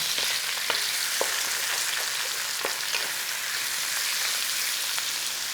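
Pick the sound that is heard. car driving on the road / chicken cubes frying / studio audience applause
chicken cubes frying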